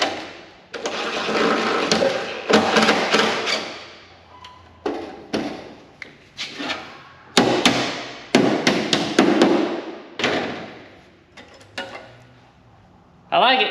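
Repeated hammer blows flatten a spot on a Honda N600 metal body panel being fitted onto a RZR 900, struck in loud, close bursts of rapid strikes separated by short pauses.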